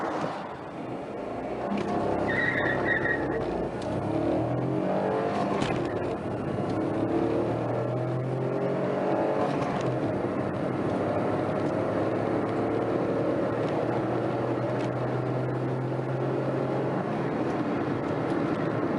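A Renault Kwid engine roars steadily and loudly during a 0–100 km/h acceleration run, low rumbling tones shifting as it accelerates, continuous for the whole stretch with no talking.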